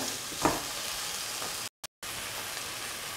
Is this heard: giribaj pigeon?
no